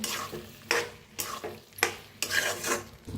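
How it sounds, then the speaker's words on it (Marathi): A vegetable dish mixed with crushed peanuts is stirred in a pan, with several loud scraping strokes of a spoon over a soft sizzle. "भाजीला मिक्स करून घेऊया."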